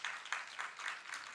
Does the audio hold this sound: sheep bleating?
no